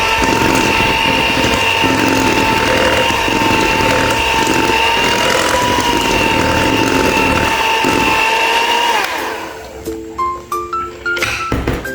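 An electric mixer whirs continuously and loudly through chocolate cake batter with melted chocolate, a steady close motor hum that cuts off near the end, leaving a few clinks.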